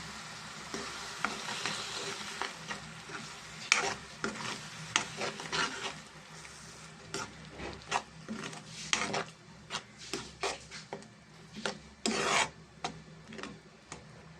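Tomato puree and onion masala fry in a pan for a gutti dondakaya masala curry, with steady sizzling and many close, rasping strokes of a spoon stirring and scraping in irregular bursts.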